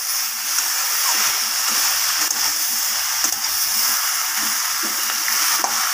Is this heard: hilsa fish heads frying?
yes